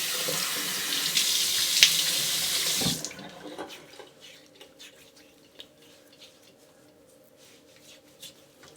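Tap water runs steadily into a sink for rinsing after a wet shave, a loud broadband rush lasting about three seconds before it cuts off, leaving faint drips and small handling noises.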